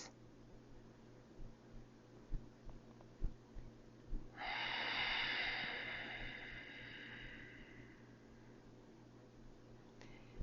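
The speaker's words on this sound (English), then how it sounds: "deep cleansing breaths." Deep cleansing breath during a calm yoga session, a single long airy exhale swelling and then fading slowly, close and soft, after a few quiet taps and rustles.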